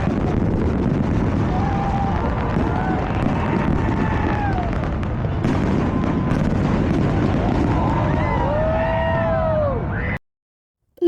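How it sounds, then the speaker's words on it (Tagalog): New Year fireworks in Australia crackle and boom continuously, with rising whistles arcing through the dense, loud barrage before it cuts off abruptly. "Nalingaw dyan ko sa fireworks, guys."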